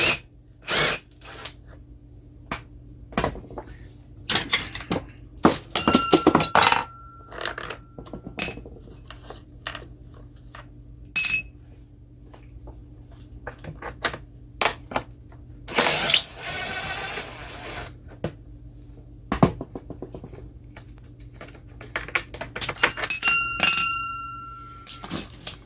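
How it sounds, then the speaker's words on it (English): A DeWalt impact driver splitting a pool pump from its motor during a bearing repair, giving bursts of sharp metallic rattling and hammering with brief pauses between, close and loud, plus clinks of loose parts and hardware. "These DeWalt's impacts are fabulous."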